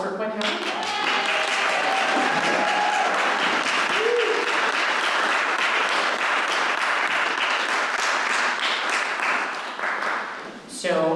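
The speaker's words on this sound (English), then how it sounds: "Let's have another round of applause for Quinn Hallenbeck." Sustained audience applause fills the room after a Q&A event for a hidden-nature talk, dense and steady clapping from a crowd that holds strong for about ten seconds before tapering off near the end.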